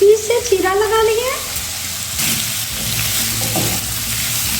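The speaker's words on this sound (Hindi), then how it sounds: "लगातार चलाते हुए भूनेंगे।" Green chillies and washed cubed potatoes fry in a pan for spiced cumin potatoes, a steady sizzle under stirring with a brief voice early on and faint watery clatter later.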